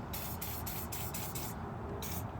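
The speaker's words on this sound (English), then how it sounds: "I'm just gonna spray some WD-40 on here" WD-40 sprays onto a 2011 Ford Explorer's stabilizer link in several short hissing bursts followed by one more after a pause, close and fairly quiet, with no talking.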